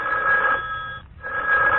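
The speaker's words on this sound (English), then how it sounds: "Do you hear the phones ringing?" Office telephones ringing in a broadcast newsroom, a bright electronic ringing tone that holds, breaks off briefly in the middle, then resumes, fairly loud with no talk over it.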